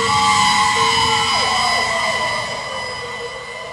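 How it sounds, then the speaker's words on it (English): Wailing fire engine and emergency sirens sweep up and down over a rumbling truck engine, loud at first and gradually fading. "sirens screaming."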